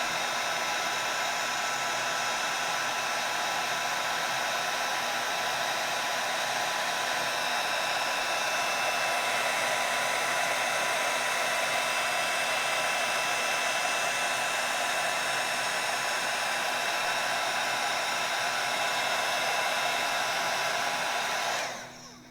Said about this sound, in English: I'm gonna melt that again. I'm gonna be careful not to blow all my embossing powder away.